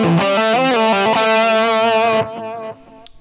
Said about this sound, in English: I'm going to come in here and add in my delay because it might be for my lead.